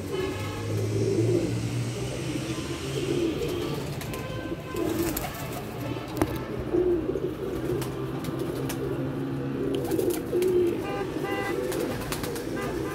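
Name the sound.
pigeons cooing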